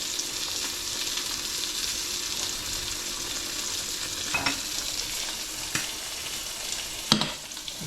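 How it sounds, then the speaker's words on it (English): Sauce for pan-fried duck breast bubbling and reducing in a pan, a soft continuous simmering hiss with a few faint clicks and scrapes, no talk. "Meanwhile, the sauce is being reduced nicely."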